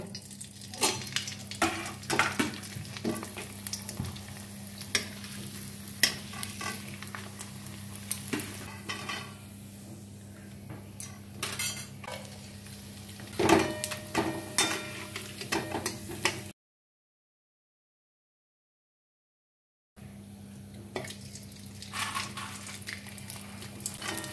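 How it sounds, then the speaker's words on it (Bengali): Potato papads deep-fried one at a time in hot oil, giving a steady sizzle with scattered crackles and clinks from a utensil, then a few seconds of silence before the frying resumes. "এবার আমি পাঁপড়গুলো একে একে ভেজে নেব।"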